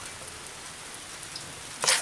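Rain falls outdoors as a steady, even hiss throughout, rising into a brief louder burst near the end.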